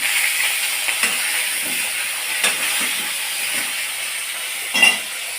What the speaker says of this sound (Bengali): মাছের মাথা আমি ভেজে নেবো সুন্দর করে